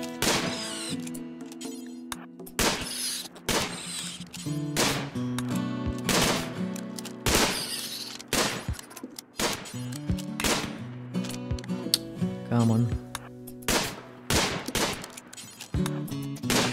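Colonists trade gunfire in the colony-building game RimWorld, with rapid irregular bursts of shots packed closely together, loud and continuous throughout and with no talking.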